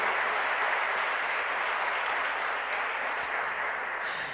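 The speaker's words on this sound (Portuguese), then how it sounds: "dá um aplauso ao Senhor" A church congregation applauds in a steady, dense wash of clapping that holds at an even level throughout, with no voices standing out.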